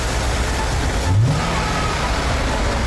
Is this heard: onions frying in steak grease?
no